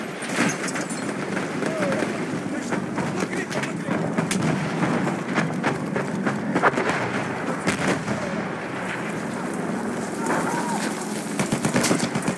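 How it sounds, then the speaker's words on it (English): Enemy machine gun fire in a war video game, rendered as rapid, sharp cracks over a constant rumbling battlefield din, moderately loud and running throughout. "Enemy machine gun."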